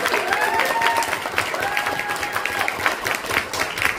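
Audience applause welcoming a veteran film director at a foundation launch event, clapping from a gathered crowd mixed with voices and a few cheers, fairly close and lively.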